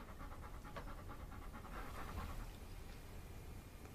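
A dog pants steadily and close by, quick rhythmic breaths continuing for the whole stretch with no talk over them.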